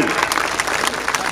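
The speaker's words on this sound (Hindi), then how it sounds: "जोरदार ताली बजा करके स्वागत करिए" Dense applause from a rally crowd at an open-air political rally in Varanasi, welcoming someone speaker onto the stage; steady, continuous clapping that fills the short stretch with no pauses.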